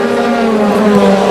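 An IndyCar race car engine drones steadily through a caution period, a loud sustained tonal whine that holds the same pitch throughout the short stretch.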